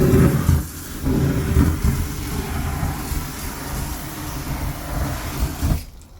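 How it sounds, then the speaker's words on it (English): A loud, continuous roaring hiss of a jet flame torch on a barbecue, close and steady, cutting off abruptly just before the end. "Jet flame the whole lot."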